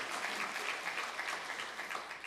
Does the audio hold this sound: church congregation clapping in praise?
yes